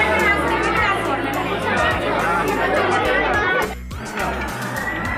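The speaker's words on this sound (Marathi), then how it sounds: "गर्दी आहे बघा, किती गर्दी." A dense crowd murmurs and chatters at the Ellora caves, many voices overlapping into a steady babble, with a brief lull before the hubbub resumes more quietly.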